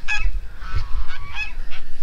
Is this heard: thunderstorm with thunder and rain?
no